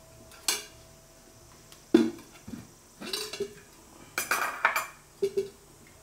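A metal wok is set on a wood-fired clay stove for prawn masala fry, giving scattered clanks and scrapes of pan and spoon, with quiet gaps between the knocks and no talking.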